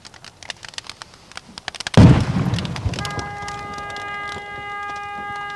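A sudden loud blast from propane and gas tanks going off under molten metal, following a run of sharp crackles, then a long rumbling roar that fades into a steady tonal whine.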